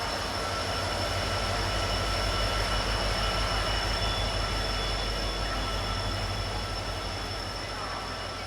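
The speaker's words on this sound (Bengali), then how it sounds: "আমরা আজ ধরছি 12837 হাওড়া পুরী সুপারফাস্ট এক্সপ্রেস" The Howrah–Puri Superfast Express (12837) rolls along with a continuous, loud rumble and rattle of wheels on track, steady throughout with a faint high whine.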